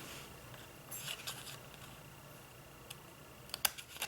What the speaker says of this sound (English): I'm gonna just bring my scissors and do slits.